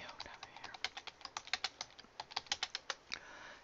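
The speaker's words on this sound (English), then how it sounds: "Type it in." Close, quick clacking of a computer keyboard as someone types, about two dozen crisp keystrokes in uneven bursts, fairly quiet.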